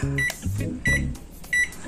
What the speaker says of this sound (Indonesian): nah sekarang kita atur guys. Kita atur microwave-nya ya.